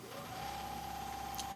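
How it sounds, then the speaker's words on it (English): A vacuum pump on a card-sorting machine in a trading card store starts up, giving a steady mechanical hum with a sustained tone that holds evenly and close by throughout. "That's the vacuum pump you hear kicking in."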